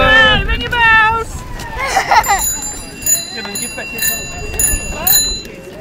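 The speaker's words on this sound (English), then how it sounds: "Ring your bells." Children on bikes ring their bicycle bells at a family cycling library launch in Hackney, with a few bright rings scattered through the clip over lively chatter and crowd noise.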